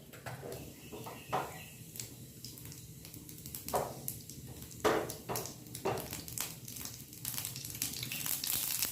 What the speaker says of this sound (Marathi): हे आपली मोहरी तडतडायला लागली आहे